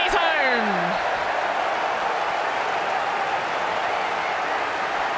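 A cricket crowd at Headingley roars and applauds on the final day of an Ashes Test, a dense, loud, continuous wall of noise with a commentator speaking over it.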